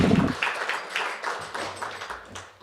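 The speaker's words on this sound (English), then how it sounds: "Let's give Ed Hurst a round of applause here" Audience applause for a guest at a local sports broadcasting talk, heard as a short burst of clapping that starts loud and fades into scattered, thinning claps over a few seconds.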